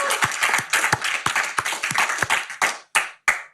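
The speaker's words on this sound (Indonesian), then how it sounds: "tepuk tangan buat Bosman" An audience claps for Bossman Mardigu at an Indonesian talk event, with a burst of hand claps that thins toward the end into a few separate, sharp claps. No talking.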